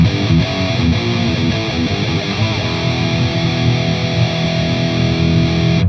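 Heavily distorted high-gain metal guitar with a TS9 overdrive plugin engaged, played as tight, palm-muted chugging riffs that ring loud and continuous throughout.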